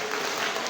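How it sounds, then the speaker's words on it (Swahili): Short burst of steady clapping from a gathering at a children's church congress in the Diocese of Iringa, a dense even patter throughout with no pauses. "Makofi kwake"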